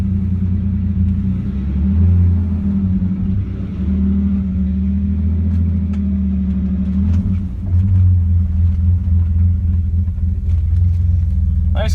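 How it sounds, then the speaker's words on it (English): Deep, loud rumbling idle of a BMW E28 535iS with a straight-pipe exhaust after the catalytic converter, steady low drone close by, swelling slightly as the car is backed out. "It's a straight pipe after the cat."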